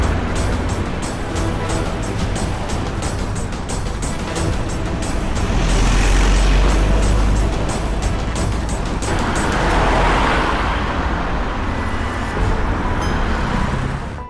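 A getaway car pulls away fast, its engine and road noise rising into a broad roar that swells midway and holds steady, loud and close, with no talk over it.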